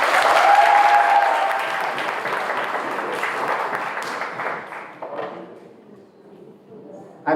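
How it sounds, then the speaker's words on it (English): Audience applause fills a quiz debate hall at a teachers' college, loud and sustained for several seconds before tapering off into scattered claps. "Clap them on."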